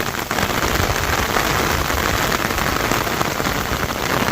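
Heavy rain pours down steadily on a village in a constant, dense hiss that fills the whole stretch, with no distinct thunderclap standing out and no voices.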